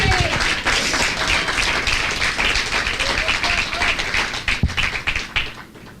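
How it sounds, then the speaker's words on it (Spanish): A church congregation claps loudly during a Spanish-language service, producing a dense, continuous burst of applause that thins and fades toward the end. "Dele ese aplauso al Señor en esta mañana."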